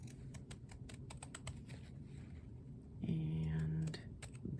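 Sharp scissors snip through paper while a pocket calendar is being crafted, giving a run of crisp, close cuts in an uneven rhythm, with a short steadier tone partway through.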